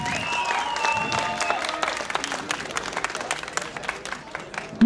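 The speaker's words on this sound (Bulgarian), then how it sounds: "аплодисменти за нея!" An audience claps at a school graduation ceremony in Varna. The applause swells into a sustained, crackling patter, with a voice and some tonal sound briefly over it at the start.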